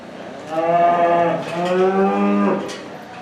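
A heifer at a 4-H cattle show lets out two long, loud moos back to back, close by with faint hall noise behind.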